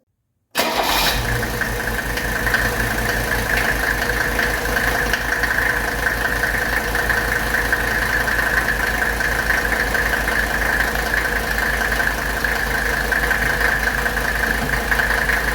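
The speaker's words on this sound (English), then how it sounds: "This engine fires up really quick, really smooth. Look how smooth it's running." A 1985 Mercedes 300D diesel engine cranks briefly and fires up quickly, then settles into a steady, smooth, close-up idle with the characteristic diesel clatter running evenly to the end.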